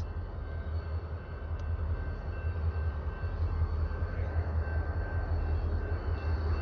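BNSF freight train cars rolling past a crossing on a dog food local switching move, a steady low rumble with a faint high squeal, continuous and moderately near.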